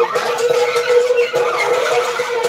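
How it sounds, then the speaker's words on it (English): A small wheeled work bench rolls across the floor, giving a steady, harsh grinding rumble from its casters that runs unbroken and fairly close throughout. "like the little benches that have the wheels on them"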